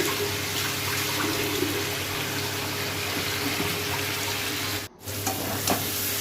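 A Bengali fish curry base with Kashmiri chilli powder and spices for boal fish, potato and eggplant sautés in a pan, a loud continuous sizzle with light stirring that dips briefly near the end, no voices.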